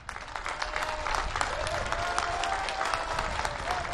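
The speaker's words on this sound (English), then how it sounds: "And the Pope is again joining in the applause from the inmates here." Sustained applause from prison inmates at Montorio Prison in Verona fills the space, a dense, steady crowd clapping heard at moderate volume without clear speech.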